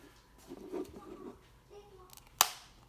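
A single sharp click snaps near the end as a Blue Mo-Fi headphone ear cushion clicks into place, preceded by soft handling noises and a quiet murmur of voice.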